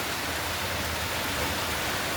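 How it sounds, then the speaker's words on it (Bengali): Steady morning rain during the monsoon month of Shravan, falling as a dense, even hiss that stays constant throughout, with no voices. "সকালবেলা এই যে বৃষ্টি শুরু হয়েছে"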